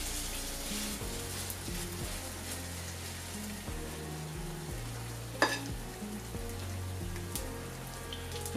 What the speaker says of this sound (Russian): Жарить с каждой стороны по минутке 2.